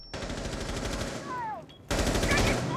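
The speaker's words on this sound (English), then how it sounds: "SMG gunfire going out as Prosser gets blinded by himself, probably" Submachine-gun fire in a Rainbow Six Siege–style tactical shooter match, rapid automatic bursts loud and close, broken by a short lull before a fresh dense volley resumes.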